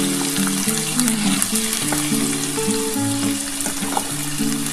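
Potatoes and ivy gourd frying in hot oil in a wok, giving a steady, loud, close sizzle that runs unbroken throughout, with faint clinks and no speech.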